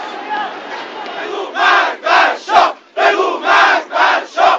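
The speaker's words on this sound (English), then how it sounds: "The crowd shouted, "Death to the Shah."" A large anti-Shah protest crowd in Iran in 1978 chants a rhythmic slogan in unison, loud massed voices rising in repeated bursts with short pauses between each shout.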